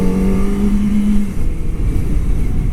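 A Kawasaki ZX-25R motorcycle engine, Indonesian-market version, rises in pitch as the throttle opens during a ride through town, a loud close high-revving whine with steady wind and road rumble underneath.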